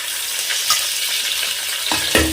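Tomatoes fry in a pan for biryani, giving a constant loud sizzle near the listener. A few clinks of stirring break through toward the end.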